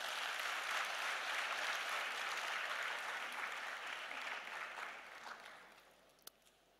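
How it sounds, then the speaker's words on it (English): An audience at a diaspora gathering gives the speakers a sustained round of applause, a dense, even clapping wash that tapers off toward the end. "I think they deserve another round of applause"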